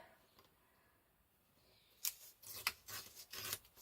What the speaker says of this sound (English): Now I don't need all of this, so I'm going to tear it.